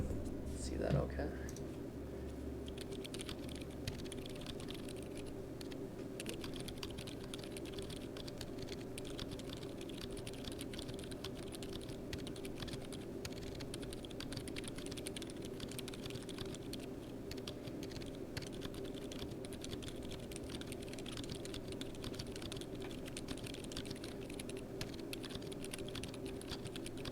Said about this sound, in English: I'm gonna aim the microphone towards the keyboard so you guys can have a listen.